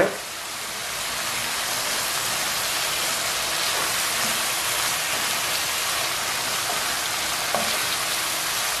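Petai beans sizzling in a pan of cooking spice paste, a steady, dense frying hiss that holds evenly throughout with a few small pops.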